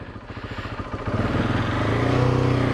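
A KTM 690 Enduro R single-cylinder motorcycle engine close by, first thumping at a pulsing idle, then revving up into a louder, smoother sustained drone.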